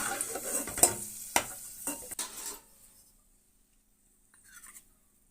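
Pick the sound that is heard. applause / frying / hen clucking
frying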